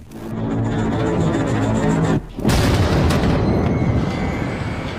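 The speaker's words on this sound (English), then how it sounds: "a horrific bombing campaign." Explosions from an airstrike bombing campaign against Serbian forces in 1999 sound as a dense, continuous roar of heavy deep booms, one sharp blast cutting through partway, loud and sustained.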